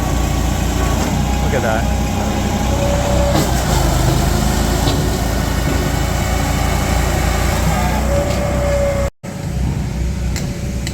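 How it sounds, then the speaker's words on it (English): A large Baker Products sawmill engine runs steadily and loud while cutting firewood at an outdoor logging show, a constant low drone under bursts of nearby crowd talk, with a brief dropout near the end. "Now I would say that is a sawmill"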